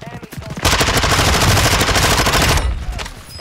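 Rapid automatic gunfire in Call of Duty: Modern Warfare II, a loud sustained burst of closely spaced shots lasting about two seconds, with quieter game sounds before and after.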